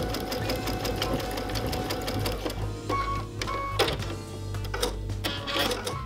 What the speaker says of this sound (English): we're going to start sewing at the mark, a reverse stitch and off to the bottom edge